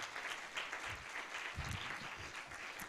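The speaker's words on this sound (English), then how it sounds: "Please give her a round of applause." An audience claps steadily through a faculty lecture hall, a dense and fairly distant round of applause with no talking over it.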